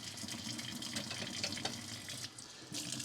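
Tap water runs steadily from a kitchen faucet while plates are rinsed on both sides at a sink, a continuous close splashing hiss with a brief dip near the end.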